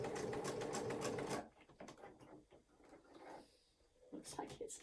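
Sewing machine stitching a bag, a fast steady mechanical chatter that runs loud for over a second, then stops; afterwards quieter handling clicks, with a brief burst of stitching again near the end.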